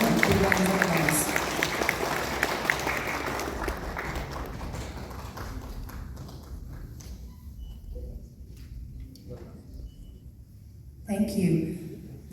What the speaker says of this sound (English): Ladies and gentlemen, let's give him a big round of applause.